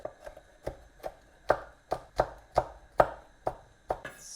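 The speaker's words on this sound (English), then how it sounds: "And also going to chop up half a red chili." A knife chops through half of a large red chili on a board, about a dozen crisp, evenly spaced thwacks in a steady rhythm, close and clear with no talking.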